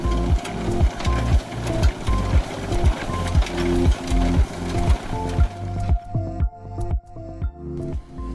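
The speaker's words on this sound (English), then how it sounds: "When there isn't enough money to buy large-sized harvesting machines, many farmers choose mini machines, such as this rice reaper." A mini rice reaper pushed along rice rows cuts and windrows the crop with a loud, regular mechanical chugging beat, close and steady, quieting near the end.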